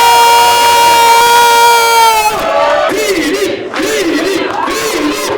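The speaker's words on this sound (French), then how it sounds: "Je veux un tonnerre d'applaudissements pour Philippe Barjot." A crowd greets Philippe Barjot with loud cheering. A sustained, horn-like tone comes first, then rhythmic, chant-like shouting voices swell close and loud.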